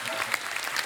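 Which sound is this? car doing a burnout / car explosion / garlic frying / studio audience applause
studio audience applause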